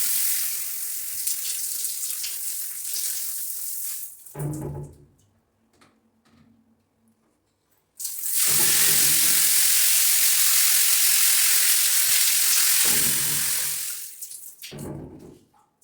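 An electric shower with a hand sprayer in an apartment bathroom runs in a steady hiss of water, cuts off for a few seconds, then gushes back on loudly before stopping and starting again.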